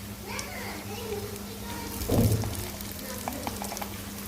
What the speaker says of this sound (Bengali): পেঁয়াজটা ভাজা হচ্ছে আর একটু ভাজবো